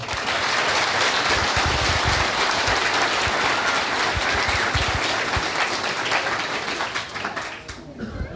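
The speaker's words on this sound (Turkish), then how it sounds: "buradan büyük bir alkış istiyorum" Loud, dense applause from a large crowd at a party congress in Tekirdağ, sustained clapping that fills the hall before thinning out near the end.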